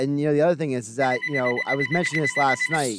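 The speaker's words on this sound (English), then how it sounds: "Your phone wants to get a word in the conversation." A landline telephone rings steadily beneath close, continuous conversation, its tone persisting throughout under the talking voices.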